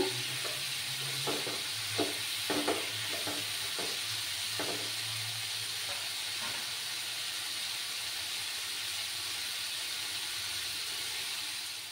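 Vegetables and spices sautéing in oil for a home-style dish with mixed vegetables and egg, a steady low sizzle with scattered stirring scrapes early on, fairly quiet and close, no talking.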